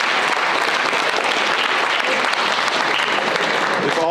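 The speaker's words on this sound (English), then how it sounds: "one more round of applause" A dense, steady burst of applause fills a high school signing day gathering for a signee, with a voice briefly cutting in near the end.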